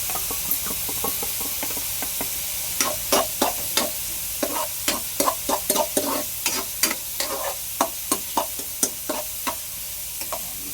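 Garlic and onion frying until golden brown for garlic butter shrimp: a steady sizzle under repeated sharp knocks of a utensil stirring against the pan, close and clear, with no talking.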